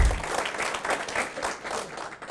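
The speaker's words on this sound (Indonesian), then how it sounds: "Aplaus dulu dong untuk produk kita Bapak Ibu" Applause from an audience at a company product presentation, a loud burst of clapping that holds steady and then starts to thin toward the end.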